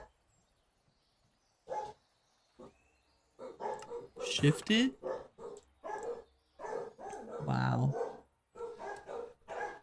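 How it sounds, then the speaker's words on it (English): Several dogs barking excitedly at a FedEx delivery, repeated close barks and yips in bursts mixed with a man's speech. "FedEx makes the dogs crazy."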